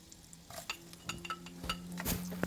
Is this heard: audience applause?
no